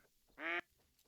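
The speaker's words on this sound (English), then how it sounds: "I hear mallards." A single short mallard duck quack, outdoors in real life, clear and fairly close against a quiet background.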